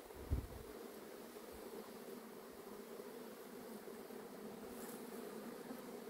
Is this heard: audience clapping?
no